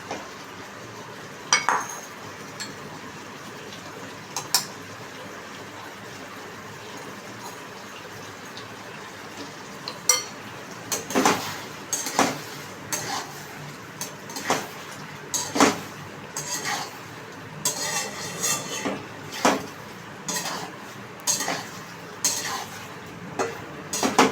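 Fried paneer tossed in a pan for a Chinese-style paneer with baby corn dish, with a soft sizzle under it and scattered metal clinks and scrapes as it is stirred, growing busier in the second half.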